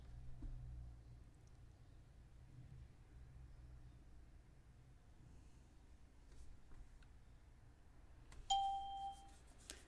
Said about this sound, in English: It dings in the background